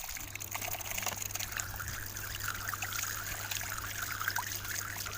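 Running water trickles and splashes steadily over a battery zinc part being washed, a close, continuous stream with no talk.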